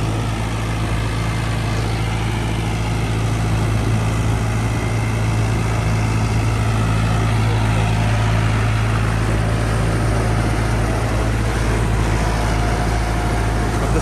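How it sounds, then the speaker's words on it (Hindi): Mahindra Novo 655 4x4 tractor running in second gear with a 9-foot rotavator working the soil, a steady droning engine rumble with dense churning noise, continuous and fairly close. "बढ़िया ट्रैक्टर चल रहा है, बेहतरीन कोई दिक्कत बड़ी बात नहीं है, बड़ा स्मूथ रूटर भी बड़ा स्मूथ चल रहा है।"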